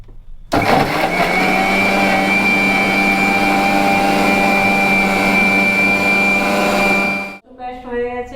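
An electric mixer grinder whirs loudly and steadily for about seven seconds as it pastes washed bish kochu (taro), then cuts off abruptly, and a voice speaks right after.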